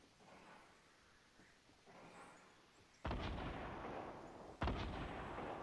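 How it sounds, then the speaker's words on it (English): Two heavy sniper rifle shots from the Fortnite battle royale game land a second and a half apart, each a sudden loud boom that tails off, following a quieter stretch of game ambience. "Where did that snipe shot come from?"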